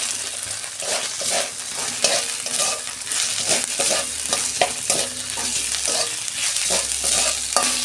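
Onions sizzle in hot oil in a pan, a busy frying crackle broken by repeated scraping stir strokes at an uneven rhythm, close and fairly loud, with no talking.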